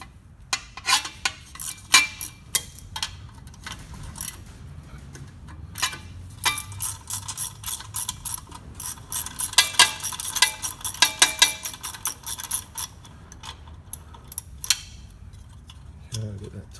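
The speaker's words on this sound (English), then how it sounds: "now we needed that quarter drive with a 10mm socket" A quarter-inch drive ratchet with a 10mm socket works a bolt on a rear axle, giving rapid metallic clicking in irregular bursts, close by and fairly quiet.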